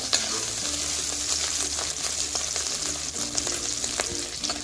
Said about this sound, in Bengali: গুগলিগুলোকে নাড়িয়ে চাড়িয়ে হালকা করে ভেজে নেব